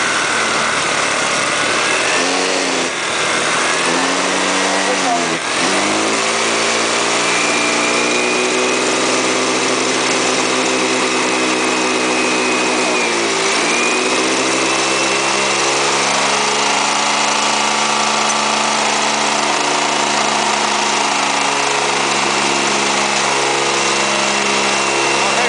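A small engine with carbon buildup in its cylinder, piston and valves revs at high rpm, a loud steady harmonic drone that dips briefly around five and thirteen seconds and then climbs and holds, with no talking.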